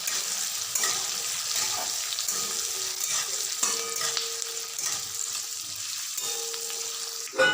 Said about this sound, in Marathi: यामध्ये चिरलेलं लसूण आणि किसलेले आले हे पण मिक्स करायचं आहे हे छान आता भाजून घ्यायचं आहे